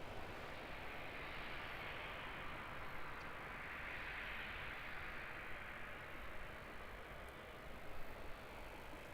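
A Boeing 787-9 heavy airliner taking off at Auckland Airport, a distant steady broadband jet roar that holds at an even level throughout, faint and without talking.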